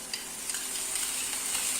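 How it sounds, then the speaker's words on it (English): Carrots hit hot oil and are stirred, giving a loud, continuous crackling sizzle with faint scraping of the spoon underneath. "Now we are going to add carrots"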